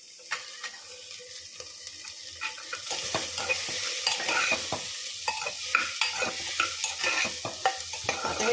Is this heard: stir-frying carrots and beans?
yes